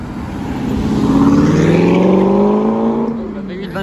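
An Aston Martin V8 Vantage driving past at night on the streets of Monaco: a loud engine note swells as the car approaches, then drops in pitch and fades as it passes, with voices faintly underneath.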